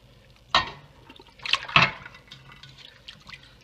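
Pork pieces dropped into a large pot holding 7.5 cups of water for sinigang, giving a sharp splash followed by a second splash and a few small sloshes, close and clear with no talk.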